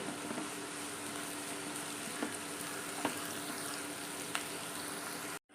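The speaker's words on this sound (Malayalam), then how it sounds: "പച്ചമുളക് ചേർത്ത് കൊടുക്കാം നമ്മളൊരു അഞ്ച് പച്ചമുളക് എടുത്തിട്ടുണ്ട്" Five green chillies fry with onions in hot oil for an egg curry, producing a steady, close, even sizzle with occasional small pops and crackles throughout.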